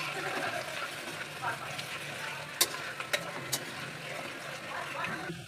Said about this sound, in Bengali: দিলাম আদা কুচি, আদা একটু ভেজে নেবো ভালো করে